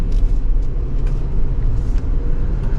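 A 2024 Range Rover P530 with a V8 engine cruises along, heard from inside as a steady low rumble of engine and road noise, fairly loud and even, with no speech.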